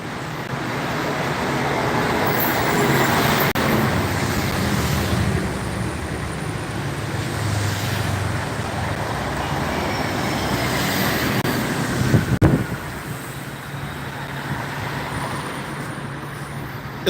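Steady street traffic of small cars in central Athens, Greece: a continuous broadband roadway rumble and hiss with passing vehicles blending together, fairly close, with a brief louder knock near the end and no talk.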